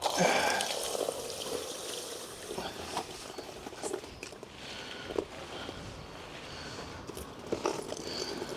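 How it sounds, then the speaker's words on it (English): Wet orange resin granules, sand-like, are tipped out of a water filter cartridge into a waste container, giving a close, soft trickling patter of grit and draining water with a few scattered knocks, no voices. "tip the granules, which are going to look like sand, the resin, out into my waste container there"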